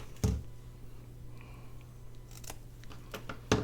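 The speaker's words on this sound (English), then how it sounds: "let's cut that little piece off" Scissors snip a small piece of paper backing off an ephemera pack, two sharp close cuts, one near the start and one near the end, with faint rustling between.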